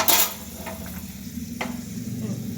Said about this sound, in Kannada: ಗೋಡಂಬಿ ಮನಕು ಚೆನ್ನಾಗಿ ಫ್ರೈ ಆದಮೇಲೆ